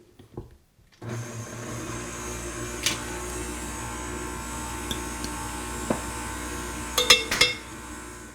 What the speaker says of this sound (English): I'm going to let the mixer mix until each of these cubes is broken up into really tiny fine chunks of butter inside here